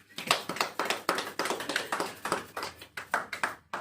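An audience claps together, a close, steady patter of distinct hand claps lasting several seconds with no one talking.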